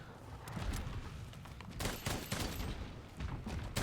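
Bowgun ammo firing in Monster Hunter World: Iceborne, a dense stream of rapid shots and impacts over a steady game background with repeated louder bursts, no voices.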